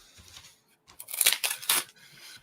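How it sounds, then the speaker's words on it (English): A sticker peeled from a foam wreath form gives a short, close crinkling tear lasting about a second, with a few faint handling rustles before it. "we can take our little sticker off."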